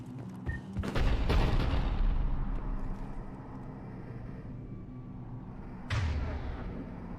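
A Cerberus cannon firing in a sci-fi video game, one heavy booming blast followed by a long rumbling decay and a second sharp boom near the end, with no talk.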